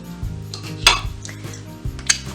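A spoon scoops mascarpone for tiramisu, making a few close clinks and scrapes against a bowl with soft, irregular knocks in between.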